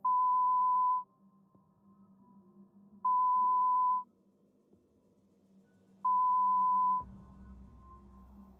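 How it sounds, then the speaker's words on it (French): Three evenly spaced steady electronic tones from a telephone line after a number is dialed, each about a second long with gaps between, followed by a low thump and faint hiss. "Je composai le numéro de téléphone."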